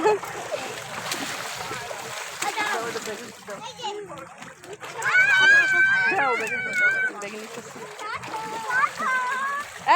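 A girl wades into a river while bathing, and the water splashes and sloshes around her, with near voices, including children's, talking and calling over the splashes throughout.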